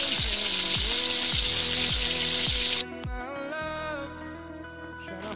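Onions, tomatoes and green pepper fry in hot oil with a loud, steady broadband sizzle, shifting to a quieter, more tonal crackle partway through, with no talking.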